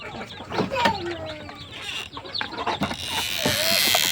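Native chicken chicks in a brooding cage crowding to drink medicated water; repeated high cheeping and clucking calls in quick irregular bursts, close by, with a steady background hiss.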